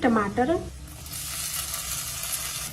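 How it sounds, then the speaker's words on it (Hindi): Chopped onions fry in oil over a medium flame, producing a steady, gentle sizzle and hiss right after a brief voice at the start. "मीडियम फ्लेम पे प्याज को हल्का ब्राउन होने तक भूनना है।"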